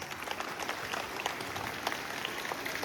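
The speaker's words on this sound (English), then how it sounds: "Give them a good round of applause." An audience at a school welcome-back gathering applauds teacher Sister Raji Bosco with continuous, crisp clapping from many hands, heard at a moderate distance in a reverberant hall.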